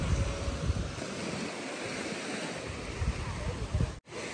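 Sea waves at Boracay beach roll in as a steady, close surf wash with wind noise, briefly cut off near the end.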